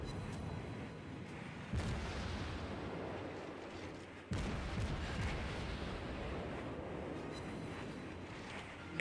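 Naval guns fire from the tier 2 cruiser Albany in World of Warships, heard as a quiet rumbling battle bed punctuated by two sharp booms and a final louder blast.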